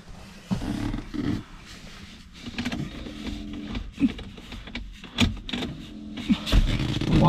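A 1980 Mercedes-Benz C107 450SLC parts car with a 4.5-liter V8 cranks over in uneven bursts that grow louder toward the end, close and rough, with no talking.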